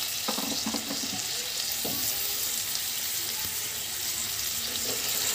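Jaggery and a little water sizzle in a hot wok while being stirred, a steady close hiss of frying with a few scraping knocks of the spoon and no talking.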